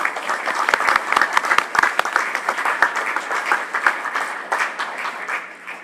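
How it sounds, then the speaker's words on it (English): An audience at a school board of education meeting applauds, a loud and dense patter of many hands that stays strong for several seconds before beginning to thin toward the end. "So how about a round of applause for all of these people?"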